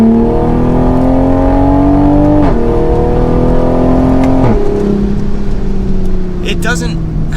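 2023 Nissan Z or A90 Toyota Supra 3.0 sports car pulling hard in fourth gear, engine note rising steadily through two quick shift dips, loud from inside the cabin.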